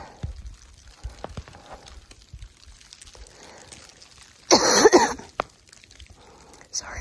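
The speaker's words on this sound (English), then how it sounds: "Sorry for my coughing." A short burst of harsh coughing, close and loud, breaks through a quiet background with faint scattered sounds before and after, outdoors on a mountain trail on the Appalachian Trail.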